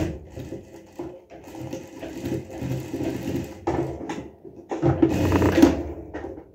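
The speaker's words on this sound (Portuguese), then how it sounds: "vou fazer aqui uma costurinha aqui só de trava" A sewing machine runs in short bursts, stitching a locking stitch on a baby romper, with uneven rattling and clattering stops and starts close by.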